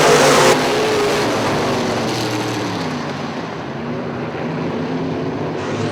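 A field of modified race cars at Cherry Speedway throttling up on a green-flag restart, a loud, dense engine roar with layered revving tones that stays heavy and continuous throughout, no voices over it.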